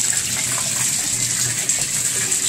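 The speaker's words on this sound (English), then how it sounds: "So as you can see, the water's running down in there, and it's moving real, real fast. And you'll see, you can hear it even draining faster." After drain cleaner, hot water rushes quickly down a bathtub drain with a continuous gushing, gurgling flow. It is close and steady throughout, with no voices.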